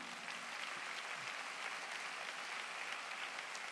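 Congregation applauding during a church worship service, a soft, even wash of clapping that stays steady and fairly distant throughout, with no clear individual claps standing out.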